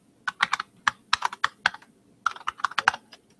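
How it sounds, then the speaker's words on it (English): Keys tapped on a US-layout computer keyboard in quick, irregular bursts of crisp clicks with short pauses between groups, close and clear against quiet surroundings. "Try to remember where all the characters are on this US keyboard."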